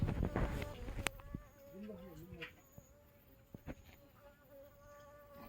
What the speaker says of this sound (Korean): 그리고 옆에서 계속 윙윙거리는데 이 친구도 보여드릴게요